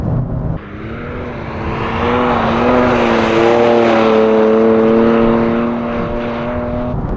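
A BMW M4 GTS engine and exhaust drone loudly and up close while drifting, holding a sustained, rising pitch for several seconds before easing off toward the end.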